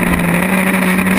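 Historic Formula Ford race cars battle side by side at Snetterton, a steady, loud engine drone with a sustained buzzing tone holding throughout, no speech over it.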